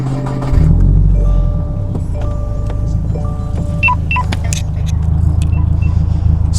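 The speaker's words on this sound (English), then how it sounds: "let me start this car here real quick." A Subaru WRX fitted with a Ray Motorsports catback exhaust starting up, with a jangle of keys and a starter crank, then the engine catches into a loud, close, steady idle rumble with faint chimes and clicks over it.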